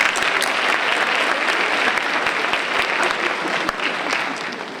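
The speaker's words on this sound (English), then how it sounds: "Round of applause, anyway." An audience at an MLK Day 2017 event breaks into dense, steady applause that fills the whole stretch and eases slightly at the end.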